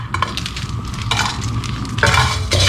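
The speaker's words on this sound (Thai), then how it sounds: "คั่วให้มันไม่ไหม้หน่อย มันจะได้มีกลิ่นหอม" Whole spices such as cinnamon dry-roasting in a pan for a massaman curry, with a close spatula scraping and stirring in irregular strokes over a faint sizzle and clinking of metal on the pan.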